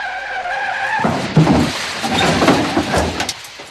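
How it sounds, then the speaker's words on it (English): A truck skids with a locked brake, giving a short tonal squeal that cuts into a loud, rough scraping slide with uneven bursts, close and alone with no talk. "Your brake's locked on the light side, so you skidded."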